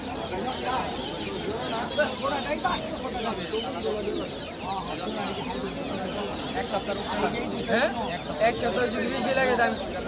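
Birds at a pigeon market in Jinjira, Bangladesh, make a busy background of cooing and fluttering calls amid crowd chatter, with someone talking nearby over the din.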